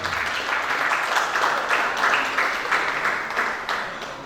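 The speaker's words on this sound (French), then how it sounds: "Je pense que cela mérite des applaudissements" Sustained applause from an audience at a French-language book signing and reading event, a dense wash of many hands clapping steadily at moderate loudness with no voices over it.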